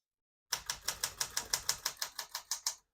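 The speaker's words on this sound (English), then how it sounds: "As you can see, all the keys type nice and none of them skip or stick." Typing on a 1972 Smith-Corona Classic 12 Script portable typewriter: a steady run of about fourteen crisp, evenly spaced key strikes, close and clear, with no voices.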